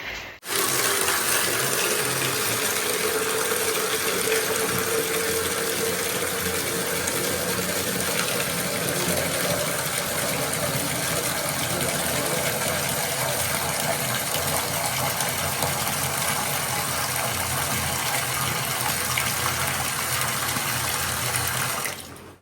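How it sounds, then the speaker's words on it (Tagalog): Well water gushes steadily from a pump outlet at a rural provincial home, a loud continuous rushing splash with a faint mechanical hum beneath, holding nearly unchanged for about twenty seconds. "Galing sa tubig ng balon"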